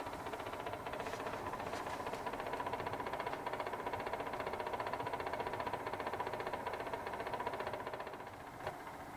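An Ivation dehumidifier rattling and clattering, a fast continuous mechanical chatter over a steady motor hum, close and unbroken for several seconds before easing slightly near the end.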